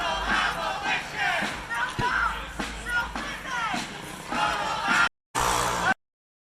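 About two hundred protesters shout in rhythmic chants as they march through a Portland street, loud and close, with voices rising and falling before the sound cuts off abruptly.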